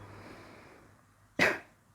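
A single sharp cough bursts out after a stretch of faint background hiss, loud and close, then fades quickly.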